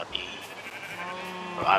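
Sheep bleat on a farm in the video game Minecraft, a wavering call rising near the end over a steady background of game sounds and soft noise.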